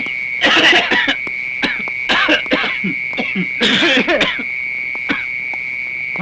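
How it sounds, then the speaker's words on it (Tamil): Several deliberate coughs and throat-clearing bursts in a Tamil film scene, used as a signal, come in three or four clustered bouts over a steady high electronic tone, fairly close and moderately loud. "நீங்க எப்ப பேச்சு கொடுக்கணுங்கிறத நாங்க இருமல் பண்ணி சிக்னல் கொடுக்குறோம்"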